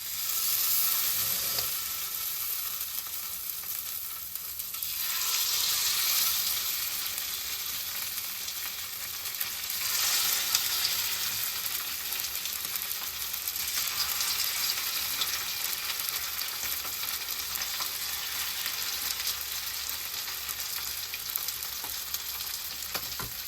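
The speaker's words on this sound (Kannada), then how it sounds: "ಫಿಶ್ ಬಿಡುವ" Sardines fry in hot coconut oil with a dense, steady sizzle and crackle, close and even throughout, with slight swells as the fish go in.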